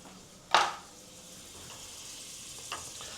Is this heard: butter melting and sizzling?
yes